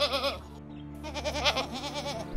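A goat in an animated Hindi story bleats in quavering, wavering calls, two close bleats at moderate loudness with no talk over them.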